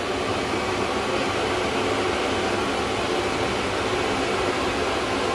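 A dog blow dryer runs close by, giving off a steady, loud broadband whoosh of blowing air that holds even and unbroken throughout with no pauses.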